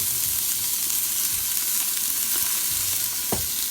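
Diced onion sizzles in a pan with a little salt while beef stew is being cooked, a steady close hiss of frying with a few soft stirring knocks, and no talking.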